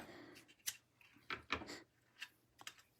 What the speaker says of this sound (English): So we'll cut another length of our wire,